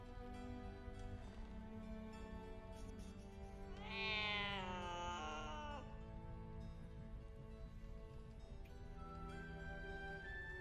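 A cat meows in the video game Baldur's Gate 3: one drawn-out, wavering, rising-then-falling meow sounds about midway, moderately clear over a steady low game soundtrack, with no talking.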